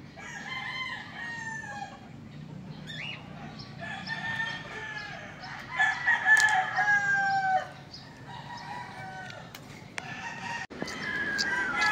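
Chickens sick with coryza crow and cluck together in a coop, with overlapping rooster crows and hen calls rising and falling over a steady low farmyard murmur, fairly close throughout.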